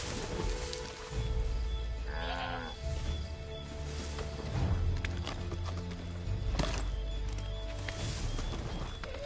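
Horse hooves galloping in Assassin's Creed 3 thud under game music and ambience, a muffled rhythmic beat that is moderately loud and partly masked.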